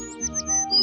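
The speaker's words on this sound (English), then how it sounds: "It's a sparrow chirping nearby." A sparrow chirping nearby, a brief bright series of high tweets over a soft layered background, under a second in length.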